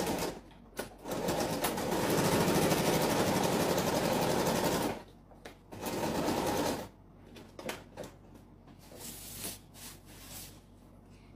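A sewing machine sewing a folding fabric pouch, running in a long loud burst of rapid stitching, then a shorter run after a pause, followed by quieter clicks and handling.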